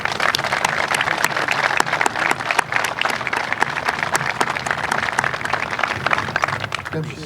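An outdoor groundbreaking ceremony crowd applauds steadily, dense clapping punctuated by crisp, distinct claps from nearby hands, with scattered voices murmuring under it and the clapping thinning toward the end.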